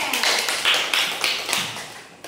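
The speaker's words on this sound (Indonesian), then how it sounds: "beri tepuk tangan yang pada Adel" Brief applause in an elementary school civics class for a student named Adel, a few hands clapping in quick, uneven bursts, close and fading over about two seconds.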